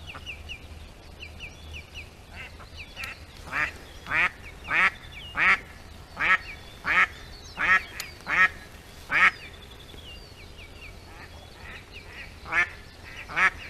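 Ducks quack during a duck hunt for drakes using a live decoy hen at the season's close, outdoors. A long run of loud, raspy calls comes in rhythmic bursts, fairly close, over quiet background noise.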